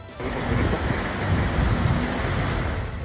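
Heavy, unrelenting rain in Baguio City pours down as a dense, steady roar with a low rumble underneath, loud and close throughout with no voices.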